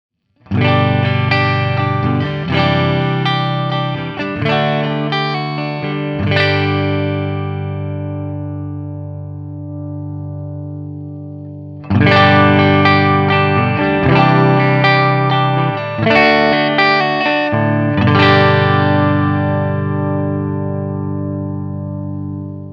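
A clean, ringing electric guitar through the clean channel of a Blackstar Artisan 100 amp plays chords and arpeggios, with notes sustaining and fading; a pause, then a second similar passage, no talking.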